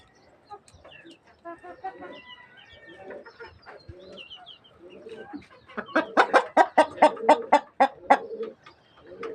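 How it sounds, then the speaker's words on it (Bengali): Chickens in a coop, with pigeons kept nearby, start with scattered soft clucks and coos, then break into a loud run of rapid, evenly spaced clucking calls, close by, with faint voices in the background. "এই যে মুরগি আছে, কবুতর আছে।"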